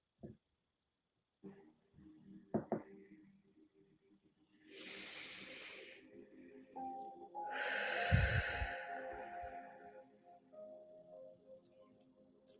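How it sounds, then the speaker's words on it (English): A slow, deep breath in followed by an exhale, soft airy hisses close to the microphone in an otherwise very quiet room. "let's take a moment to take a nice deep breath in"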